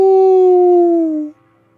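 A person's voice imitates one big wolf howl, a single loud sustained tone close by that slides gently downward before cutting off.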